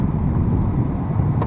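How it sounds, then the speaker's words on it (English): A 2007 Mercedes R350 4matic engine idles with the hood open, a quiet steady low rumble heard close up for a brief moment, with no speech. "It's a quiet running engine."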